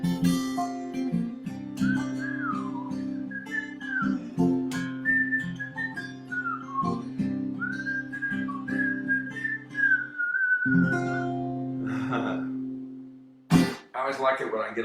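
Tuneful whistling carries a song melody over a steady instrumental backing track, the whistled phrases rising and falling in short runs, fairly close and clear, with a brief pause near the end.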